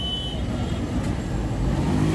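Busy road traffic at Ladipo spare parts market, a steady broadband rumble of cars and trucks with a faint high tone near the start and no clear talk.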